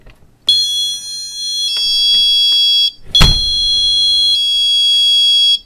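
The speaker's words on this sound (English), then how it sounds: "This alarm can either be set to alarm or chime by simply moving the switch from one end to the other." A magnetic door alarm unit sounds a loud, piercing electronic tone, two shrill beeping bursts separated by a brief click, each ringing steadily with a shifting pitch, close up and alone with no talking.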